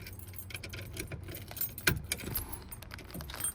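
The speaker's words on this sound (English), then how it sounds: "we're gonna go ahead and put the keys in the ignition" Keys jangle and scrape as they are slid into the ignition under the dash of a 1954 Chevrolet 3100 five-window pickup with a 383 engine, a close, light metallic rattling with a few sharper clicks.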